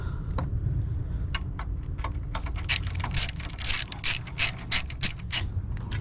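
A ratchet wrench clicks in quick bursts while tightening intake bolts during a high volume intake install on an FL5 Civic Type R, the pawl rattling close and loud with no talking.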